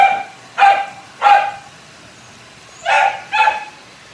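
A dog barks in four separate bursts, two close together early and two later, each bark clear and fairly loud against a quiet background with no talking.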